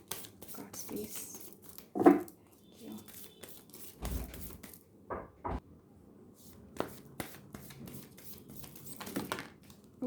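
Tarot cards are shuffled and drawn by hand in a quiet room, soft riffling and flicking bursts with a few sharper slaps, close and fairly faint, with a voice speaking quietly between actions.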